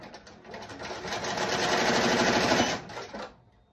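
An embroidery machine stitches a borderless patch design, its needle running in a rapid, steady mechanical rhythm that builds up, holds loud and close, then slows and stops near the end.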